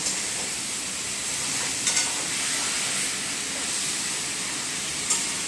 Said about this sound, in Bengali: এরপর আলুটা দিয়ে দিয়ে ভালো করে নাড়াচাড়া করে